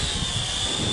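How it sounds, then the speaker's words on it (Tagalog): A drone flies overhead, its high, even whine holding steady and close for a brief moment with no talk. "At least dito nakakapag-drone si Edward."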